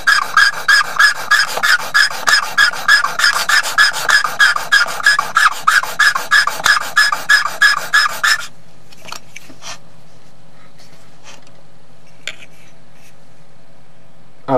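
A hand engraving graver is sharpened in rapid, even back-and-forth rasping strokes for about eight seconds, close and fairly loud, then stops and leaves a few faint scattered clicks and handling noises.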